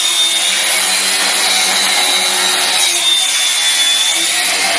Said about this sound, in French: ouverture des compresseurs trafiqués à la scie électrique